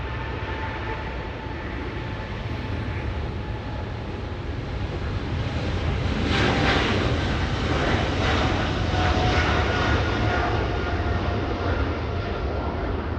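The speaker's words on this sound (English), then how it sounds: "Air China 682 flying to Beijing," Air China flight 682, an airliner bound for Beijing, roars steadily as it departs, a broad continuous jet rumble that swells louder midway and holds strong to the end, with no voices.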